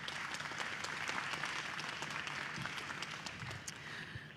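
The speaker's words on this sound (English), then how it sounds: "I would like to invite you all to give a round of applause for our wonderful speakers." A seated audience at a panel event on shrinking civic space gives a steady round of applause for the speakers, a dense wash of clapping that holds evenly throughout and eases slightly near the end, with no talking.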